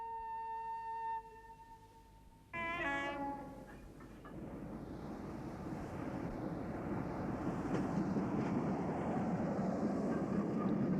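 A horn-like tone sounds, then a long rising rumble of rolling wheels and machinery builds steadily, growing louder as motion picks up.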